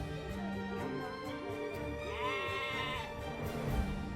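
Sheep bleating in the Age of Empires II: Definitive Edition game, a few wavering baas over soft background game sound, close and clear.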